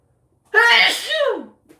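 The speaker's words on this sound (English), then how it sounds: "I also might have to sneeze." A single loud sneeze, a sharp inhaled build-up bursting into a forceful, close burst that trails off quickly.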